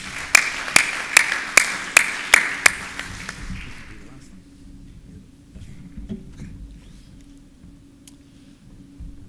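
A round of applause used as a vote at a closing session, heard as about eight evenly spaced sharp claps that give way to a quiet room with faint background noise.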